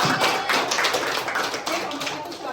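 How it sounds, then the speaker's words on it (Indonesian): Classroom applause for a student presentation group during a coding and AI teaching session, a dense patter of clapping hands filling the room, steady and fairly loud throughout. "Beri tepuk tangan untuk kelompok satu."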